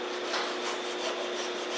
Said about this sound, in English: Little sandpaper take care of that.